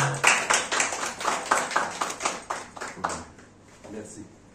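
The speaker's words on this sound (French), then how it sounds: "Des applaudissements, s'il vous plaît." A crowd applauds at a ceremony marking a partnership signing with Burkina Faso, steady close clapping over a few seconds that thins toward the end, with speech mixed in.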